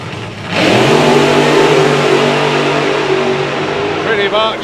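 Supercharged nitro-burning Daimler dragster with a 2.6 litre engine tearing down a drag strip, a loud sustained engine roar holding a steady pitch for several seconds before another engine's rising whine cuts in near the end.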